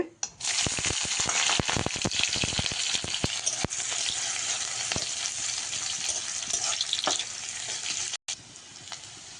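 Green chili and onion sizzle loudly in hot oil with cumin in a home kitchen, a dense, continuous crackling hiss punctuated by sharp pops and stirring, with no talk.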